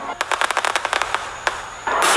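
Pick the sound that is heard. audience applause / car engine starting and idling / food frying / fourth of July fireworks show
fourth of July fireworks show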